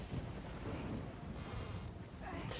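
Rain falls in a steady hiss over a low rumble of thunder at a creepy tower in The Wind Waker HD, a dense continuous wash that stays even throughout with no break.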